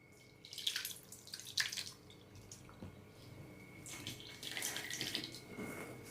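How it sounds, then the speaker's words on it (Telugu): Soaked tamarind juice pours into a pot for Rayalaseema-style pachi pulusu, with faint splashing and trickling liquid in soft bursts against quiet background hum and no voices. "ఇప్పుడు ఈ నానబెట్టుకున్న ఈ చింతపండు పులుసును కూడా పోసుకుందాం"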